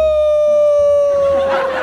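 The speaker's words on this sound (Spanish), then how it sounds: "¿Cómo hace un lobo cuando se maja con la puerta?" A loud wolf-howl sound effect: one long, sustained, tonal howl that slowly slides downward in pitch and roughens toward the end.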